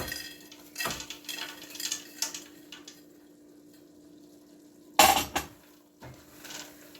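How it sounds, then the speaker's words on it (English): Frozen green peas are added to a pan of stew, giving scattered clinks and rattles against cookware, with one louder clatter partway through, at a fairly soft overall level. "So now I'm going to add the peas, the green peas in here. They are frozen."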